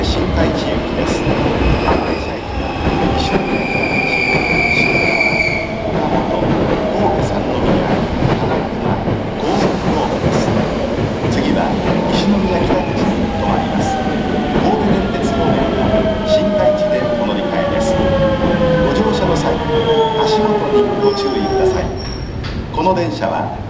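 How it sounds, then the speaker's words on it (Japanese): A Hankyu limited express train pulls into Juso station, running long and loud with rumbling wheels and high metallic squeals as it slows, while platform announcements play over it. "この電車は特急神戸新開地行きです。"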